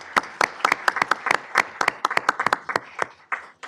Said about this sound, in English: let's give her a round of applause for being here.